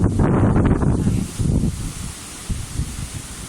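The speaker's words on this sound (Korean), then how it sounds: "이렇게 큰 나무들이 저렇게 한 번씩 바람이 불면 가지도 넘어가고" Strong gale gusting through big tree branches on a sunny day in Ireland, a loud rushing roar that swells and eases in gusts with rustling leaves, no voices.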